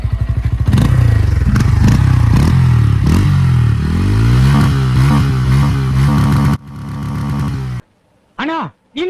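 Bajaj Pulsar N160 motorcycle with a TTS I engine revving up close, its tone rising and falling in loud continuous surges, with a short idle pause near the end.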